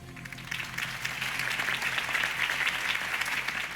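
Crowd applause in Batman: The Telltale Series, a steady wash of many hands clapping at a political campaign rally, sustained and fairly loud throughout with no one speaking over it.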